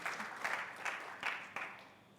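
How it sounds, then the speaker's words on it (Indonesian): A church congregation applauding during a Sunday service, a moderate, steady round of clapping with a few louder swells, heard without speech. "Berikan tepuk tangan saudara."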